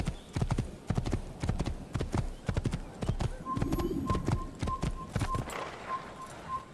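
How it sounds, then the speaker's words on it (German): A horse gallops on the road in the Kingdom of Jerusalem in the Assassin's Creed video game. Rapid, close clip-clop hoofbeats run throughout, and a repeating high beeping tone joins near the end. "Wir reiten hier im Schweinsgalopp durch."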